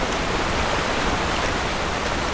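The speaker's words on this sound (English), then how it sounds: "Water." Steady rushing flow of water in the Dragon Age: Origins video game, a continuous broadband wash like a stream or small waterfall, loud and unbroken throughout with no other sounds on top.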